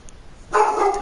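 A dog gives a single short bark, close and fairly loud, after a moment of quiet room tone.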